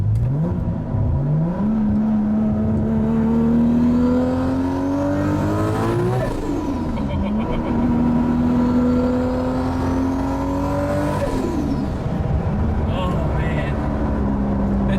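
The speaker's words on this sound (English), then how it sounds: "Just feeling a little bit of boost. Hearing the amazing 2JZ sounds." Toyota Supra with a 2JZ engine pulling under boost, loud close revs climbing in long sweeps with two sharp gear-change drops, a steady whine and blow-off chatter over the engine.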